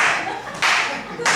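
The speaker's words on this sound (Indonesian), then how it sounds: "Jadi kalau tepuk tangan gini" Hand clapping at an Immanuel prayer fellowship service, a few bursts of claps in quick succession, fairly close and loud, with a voice speaking in the background.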